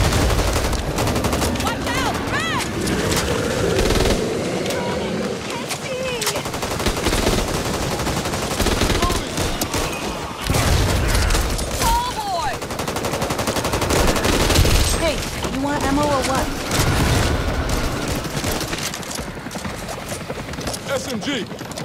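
Submachine gun fire in a video game: dense, sustained bursts and scattered shots crackle through a busy battle, with someone talking loudly over the shooting.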